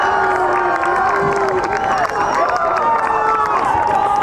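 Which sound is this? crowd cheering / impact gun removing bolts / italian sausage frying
crowd cheering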